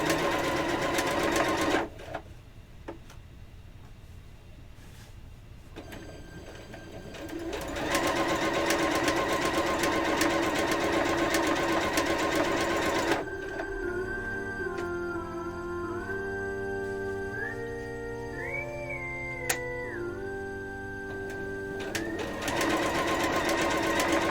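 A sewing machine stitches paper cats in close, loud bursts of rapid whirring, pausing briefly between runs, with shifting tones as the speed changes and no speech.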